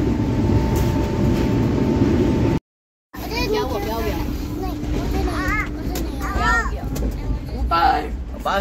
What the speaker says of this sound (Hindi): शोर बहुत है ट्रेन के अंदर